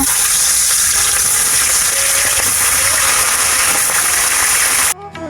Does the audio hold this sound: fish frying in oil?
yes